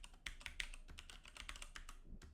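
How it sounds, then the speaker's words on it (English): A password is typed on a computer keyboard at a Linux lock screen: a quick, uneven run of soft, close key clicks, fairly quiet, with small pauses between strokes and no talking. "Basically, just start typing your password like this."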